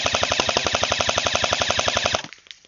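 An airsoft gun fires a rapid full-auto burst of roughly two dozen evenly spaced shots during a 100-foot headshot accuracy test outdoors. The crisp, close reports cut off abruptly, leaving a brief trailing rattle.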